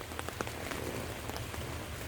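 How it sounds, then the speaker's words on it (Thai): Rain falls on the leafy plants of a home organic vegetable garden, a steady close patter with distinct individual drops tapping through a constant wash. "ฝนตกค่ะไม่น้อยว่าจะพาตัดก็ฝนตก"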